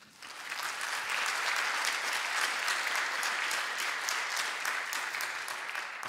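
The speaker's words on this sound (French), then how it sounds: "On l'applaudit." Applause at the installation of a municipal council in Bondues, a dense, even wash of clapping that rises quickly and stays full and steady for several seconds in a hall.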